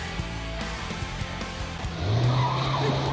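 A car's tires skid and squeal on the road in a drama scene, a sustained screech rising after the engine runs under steady rumbling, loud and close with no voices over it.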